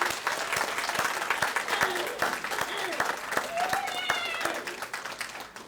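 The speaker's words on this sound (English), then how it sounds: "one more round of applause for all of our graduates" A graduation ceremony crowd gives the class of 2025 another round of applause, sustained clapping with distinct sharp claps standing out and cheering voices and whoops layered over it.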